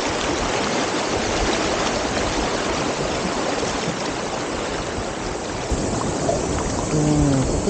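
The Nagara River current rushes steadily at the Ikejiri and Oze area in Gifu, a dense close wash of flowing water with no break, and faint voices come in near the end.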